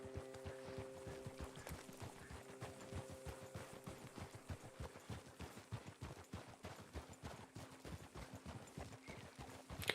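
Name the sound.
horse hooves in video game Red Dead Redemption 2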